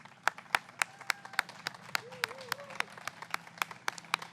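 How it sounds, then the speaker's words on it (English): Sparse, separate claps from a small audience at an equity awards event, a few distinct hand claps spaced out over a few seconds with a soft voice or hum underneath. "we are going to give you a major round of applause"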